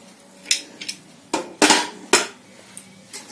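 A series of sharp metallic clanks and clatters, a few light taps and then several louder bangs, as a cooled pressure cooker lid is handled and opened after cooking chana dal.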